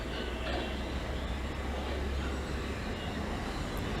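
A non-stopping train runs through Grove Park station as a steady, loud low rumble and roar of wheels and carriages, continuous and close for the whole stretch.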